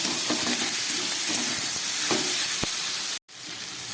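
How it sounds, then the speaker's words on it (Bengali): Cumin and chilli powder sautéed in a pan for a vegetarian chorchori: a steady close sizzle with soft spoon scrapes, a sharp clink near the end, then a brief drop to silence before the frying hiss returns. "আর দিয়ে দিচ্ছি একটু জিরের গুঁড়ো, আর দিয়ে দিচ্ছি একটু লঙ্কার গুঁড়ো। খুব ভালো করে আমি এবার একটু কষিয়ে নেব।"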